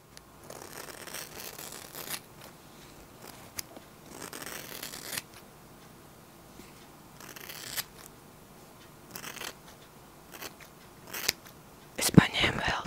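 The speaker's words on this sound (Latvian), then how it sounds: "Es paņēmu vēl 3 dažādākas šķēres." Several pairs of scissors snipping close to the microphone in ASMR style, crisp cuts arriving in irregular clusters with soft pauses between, ending in a louder burst of snips.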